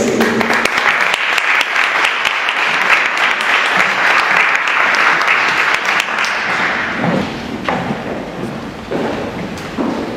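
Loud, dense applause from an audience at a launch ceremony with a chamber of commerce, sustained clapping that thins toward the end with a few scattered louder claps.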